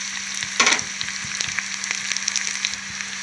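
Ivy gourd (dondakaya) frying in a pan with a steady, close sizzle and crackle, plus a brief louder burst of spattering early on and scattered small pops throughout.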